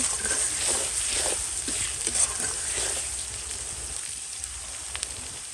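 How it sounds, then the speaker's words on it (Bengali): Food frying in a pan with salt just added, a steady oily sizzle with soft crackles and occasional stirring scrapes running through, close and fairly loud with no talking. "এটাতে একটু লবণ দিয়ে দিলাম এরপর আবার একটু ভালো করে ভেজে নেব"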